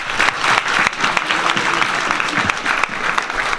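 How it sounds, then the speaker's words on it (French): An audience at a film premiere breaks into dense, sustained applause, many hands clapping loudly and continuously from start to finish. "il faut vraiment bien l'applaudir pour tout ça."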